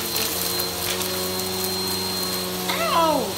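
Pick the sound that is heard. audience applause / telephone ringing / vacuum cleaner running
vacuum cleaner running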